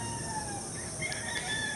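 Roosters crow in the distance, faint and layered over a steady high hum of background noise.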